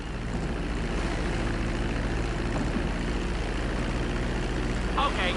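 An airplane taxis along a runway in GTA 6, a steady droning propeller and engine rumble that holds at an even level throughout, with a faint brief chime near the end.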